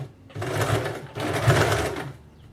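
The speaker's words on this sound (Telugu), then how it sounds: "నీట్గా కంగారు పడకుండా జాగ్రత్తగా పెట్టుకొని స్టిచ్ చేసుకోండి" A sewing machine stitching salwar ladies' pant fabric, running in two close bursts of rapid whirring clatter separated by a short pause.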